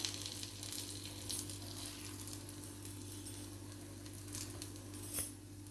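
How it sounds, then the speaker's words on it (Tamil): Sweet or savoury kuzhi paniyaram cooking in a paniyaram pan, a low steady sizzle with light metallic clinks as the pieces are turned, one sharper clink near the end, no voices. "நான் இந்த மாதிரி எல்லா பக்கமும் திருப்பி போட்டுட்டேன் பணியாரத்தை"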